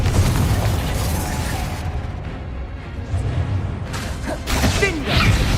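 Confringo fire spell bursts in the wizarding game Hogwarts Legacy, a series of loud booms and fiery whooshes rising and falling over several seconds, with crackling impacts near the end.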